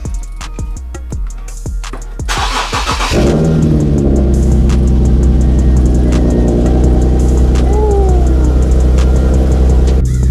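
A G37 engine cranks over with rapid ticking, then catches and settles into a loud, deep exhaust idle, recorded close, with a brief rev blip later on.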